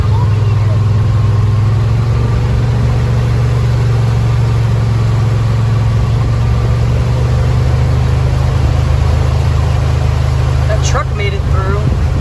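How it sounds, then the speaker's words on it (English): A truck rumbles and idles steadily as it pushes through a flooded street during Hurricane Elsa, a constant low engine drone with water noise throughout and a brief higher chirp near the end. "Truck made it through."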